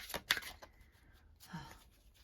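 A deck of cards being shuffled, with a few quick riffling bursts early, then softer rustling, fairly close and quiet with a brief low voice sound.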